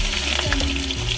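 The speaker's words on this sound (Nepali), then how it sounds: "ल यहाँ चाहिँ तातो तेलमा जिरा र मेथी पुर्याइसक्यो। र अब राखियो प्याज," Cumin, fenugreek and onion frying in hot oil for a bottle gourd and potato curry with peas, a dense loud crackling sizzle, steady and close.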